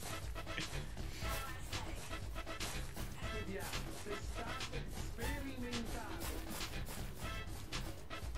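A dog in Deadly Premonition pants softly with quick, faint breaths and a small whimper, mixed under quiet game sounds and voices.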